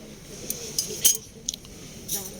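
A set of six stainless steel forks gives a few sharp, scattered metallic clinks close by, over a faint background hiss.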